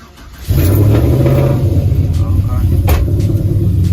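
A GMC truck with a cam fitted fires up and settles into a loud, lumpy, rumbling idle with slight revving, close by, while someone talks over it.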